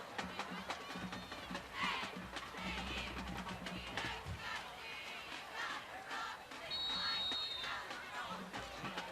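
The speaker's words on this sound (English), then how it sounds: "Got a great crowd on both sides of the field as far as the fans." Fans fill the stands on both sides of the field at a high school football game between the Elba Tigers and Providence Christian, making a broad, constant crowd roar that swells at moments beneath an announcer's voice.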